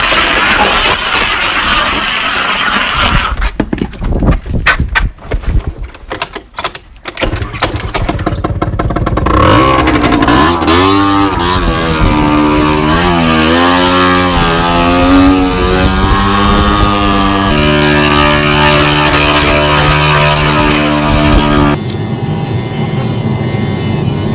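A loud scooter engine revs up and down repeatedly, its pitch rising and falling, close by and continuous throughout.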